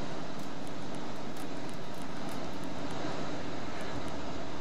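A yellow ASDG Super Cub light propeller plane in X-Plane 11 on approach, its engine a loud, constant, unbroken drone throughout.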